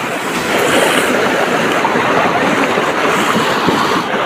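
A shallow river flows steadily nearby, a loud, continuous wash of running water with some wind noise and no talking.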